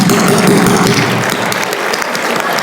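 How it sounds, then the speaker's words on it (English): A loud round of applause from an audience at a public ceremony, dense continuous clapping throughout, with a faint voice and a brief low tone under it at the start. "could we give the iGen a good round of applause for doing"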